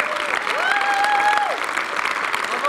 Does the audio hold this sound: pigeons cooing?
no